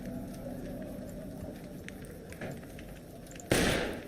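Gunfire in the video game Fallout New Vegas: a single sharp, loud shot bursts out near the end after quieter game ambience and faint low rumbling.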